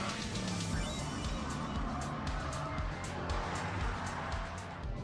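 A BMW E92 M3 with its V8 driven hard through corners, the engine roaring loud and steady throughout with a continuous broadband drone, close and dominant.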